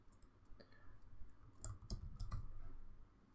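A few computer mouse clicks while setting up variables in Terraform Cloud, sharp and close but quiet, mostly bunched in the second half over a low background hum.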